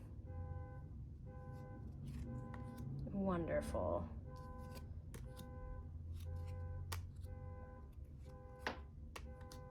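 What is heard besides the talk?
car alarm and honking outside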